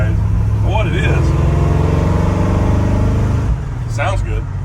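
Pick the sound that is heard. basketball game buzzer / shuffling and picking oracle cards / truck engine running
truck engine running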